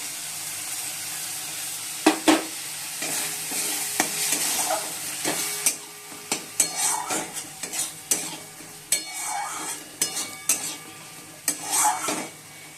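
Yogurt is stirred into sautéed spice masala in a pan: a soft sizzle underlies repeated scraping strokes and sharp clinks of a spoon against the pan, coming in irregular bursts close by.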